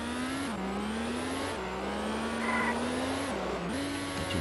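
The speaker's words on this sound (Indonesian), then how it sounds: "Sekarang kita membawa mobil trek teman-teman." A video-game toy race car drives along with a steady droning engine hum that rises and falls in pitch as it shifts and accelerates, loud and continuous with no talking.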